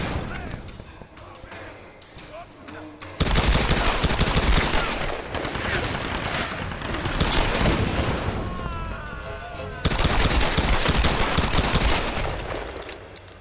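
Rapid automatic gunfire erupts in the Tomb Raider video game, long dense bursts of loud close shots with booms and impacts, coming in two heavy waves with a short quieter gap between them.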